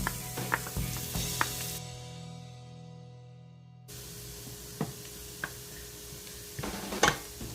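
Onion sizzling in a frying pan while cooking chicken morcon, a steady close frying hiss with a few sharp crackles and stirring clinks, dropping briefly to near quiet before the sizzle resumes.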